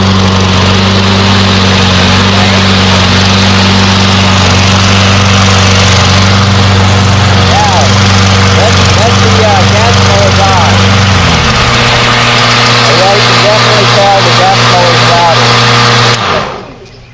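A Black & Decker cordless battery electric lawn mower runs with a loud, steady motor hum that changes pitch partway through and then cuts off at the end; a voice talks over it.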